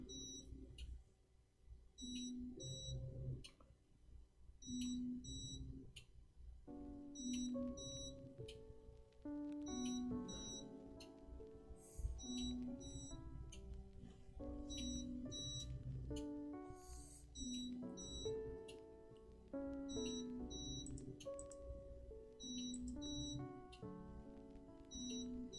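A QIDI X-CF Pro 3D printer gives off short, quiet electronic beeps. They repeat in a steady pattern over a soft, low hum of machinery, and no one is talking.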